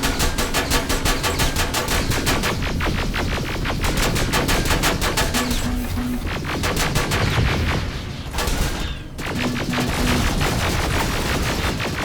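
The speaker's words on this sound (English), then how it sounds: "Man, that turret is fucking that thing up." An automated turret in the Terminator: Resistance video game fires sustained rapid machine-gun bursts, loud and dense with brief pauses, alongside electronic beeps and impact sounds.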